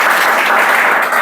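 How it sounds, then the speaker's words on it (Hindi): A class of students in a Chhattisgarh police recruitment lesson applauds together, a dense, even burst of clapping that is close and loud for about a second with no pause. "ताली बजाओ।"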